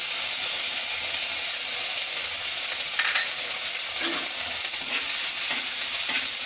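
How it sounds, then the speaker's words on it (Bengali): Ginger and onion paste frying in oil for Bengali rohu fish korma, a loud, constant hissing sizzle with a few faint stirring scrapes and no speech. "এটাকে অল্প নেড়ে নিয়ে এইভাবে অল্প নেড়ে নিতে হবে তেলে।"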